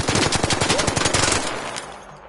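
Rapid bursts of automatic gunfire in Arc Raiders, a gun emptying magazines into a shielded enemy, steady fast shots for over a second before trailing off into quieter game ambience.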